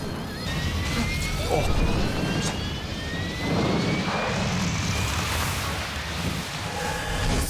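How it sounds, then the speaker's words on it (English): Jet aircraft with roaring afterburners in a film scene, producing a loud, sustained engine roar with rising whine streaks, while people watching talk over it. "The afterburners here as well."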